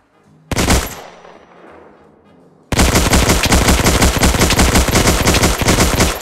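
An automatic rifleman's BAR in Hell Let Loose, loud and close: a single sharp shot with a decaying tail, a pause, then a long sustained burst of rapid, evenly spaced automatic fire.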